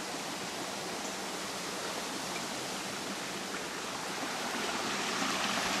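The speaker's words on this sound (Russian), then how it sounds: "Вот такой вот этот источник Пания с водой из ниоткуда, дающий практически реку" The Pania spring in Crimea gushes out almost as a river, a steady dense rush of flowing water that stays close and loud throughout with no voices.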